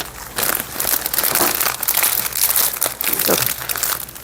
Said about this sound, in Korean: 그리고 마감으로 비닐을 한번 덮어줄게요